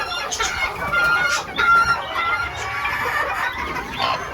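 A bearded mini bantam hen clucks repeatedly in short, close, fairly loud bursts with no talking, amid steady farmyard background.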